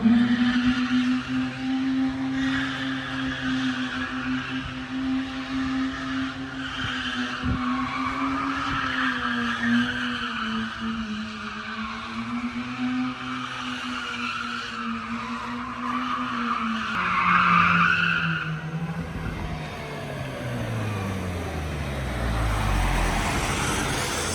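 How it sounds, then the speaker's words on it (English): Freshly rebuilt rotary engine car pushed hard while being broken in, its buzzing engine note climbing and falling under load, then tires skid and squeal loudly before the revs drop away into a low rumble. "That's how you break in a Rotary"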